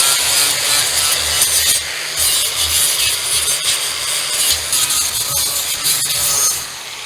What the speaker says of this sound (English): give them a little sanding real quick